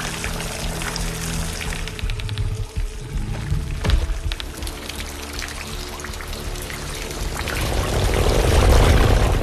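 Water pours and splashes continuously, with scattered drips and a sharp clatter, growing louder and fuller toward the end.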